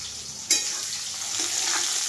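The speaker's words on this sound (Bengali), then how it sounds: "পেঁয়াজটাকে এবারে লাল লাল করে আমি ভাজবো" Onions drop into hot oil in a wok with a sudden sizzling burst, then keep frying in a steady, moderate hiss close by.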